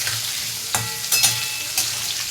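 Vegetables frying in a pan for khichuri, a steady bright sizzle with a few sharp clinks and scrapes of a spatula stirring, close and fairly loud, with no voices.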